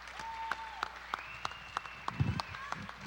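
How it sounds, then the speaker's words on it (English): At a spelling bee foundation fundraiser, scattered hands clap in a slow, light rhythm. The applause is thin and faint and sits over a quiet room, with a few voices murmuring. "I want to have an applause for everybody."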